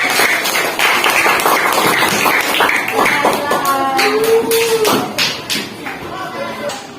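Classroom of students clapping for a group, a lively spatter of hand claps up close, mixed with chatter and a voice speaking over it.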